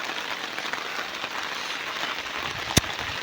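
Steady rain falls outdoors during a freshwater fishing trip for tilapia, a dense continuous hiss of drops on surfaces with one brief sharp knock near the end.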